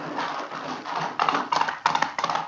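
Horses' hooves clip-clop along a riverside track as a radio drama effect, a steady run of close, crisp hoof beats that grow more pronounced toward the end.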